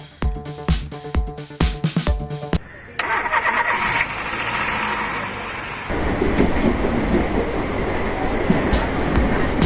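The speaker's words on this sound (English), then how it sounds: "our good old car is alive and running" A family car's engine cranks in a quick rhythmic churn, then catches and settles into a steady, loud running drone right after its battery has been replaced; no one speaks.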